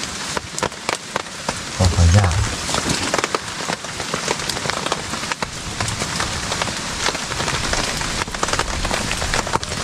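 Rain falls steadily through a forest storm, a dense close patter of drops on surfaces and leaves running the whole time, with someone speaking briefly over it.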